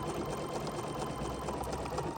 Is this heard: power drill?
no